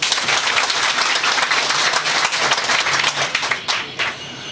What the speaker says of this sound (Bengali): সাধারণ সম্পাদকের জন্য একটা জোরে হাততালি